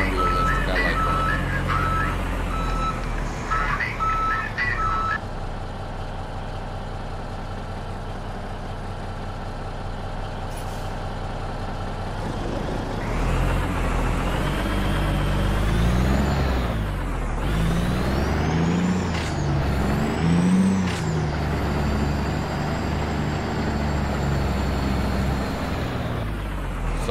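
Kenworth K200 truck in American Truck Simulator, a steady diesel engine drone with throttle changes, gear shifts and brief air brake hisses, loud and continuous throughout with no talking.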